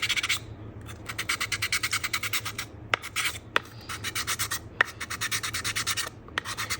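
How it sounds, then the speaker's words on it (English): Rapid rhythmic rasping of a nail sanding block rubbed back and forth on an edge, close up, in quick bursts with brief pauses, no talking. "The sanding gives it a nice edge"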